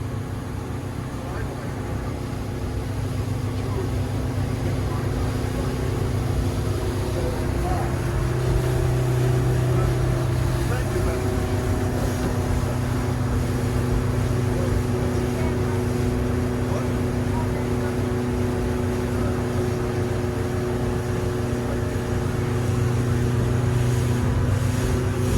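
A Merry Fisher 795 Marlin boat runs at full speed, its engine a steady, loud drone with wind and water rush throughout, continuous and close for the whole stretch.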